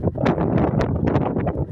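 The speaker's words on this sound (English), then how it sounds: "It's really, really windy." Strong wind on Cleveleys seafront near Blackpool during a storm with high tides, loud gusty buffeting against the microphone, continuous and close.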